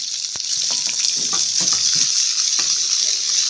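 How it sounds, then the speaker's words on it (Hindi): Capsicum, onion, tomato, garlic and ginger roast in ghee in a pan, making a loud, continuous close sizzle broken by soft stirring scrapes and taps, with no voices. "चलिए थोड़ी देर के लिए इन चीज़ों को रोस्ट कर लेते हैं"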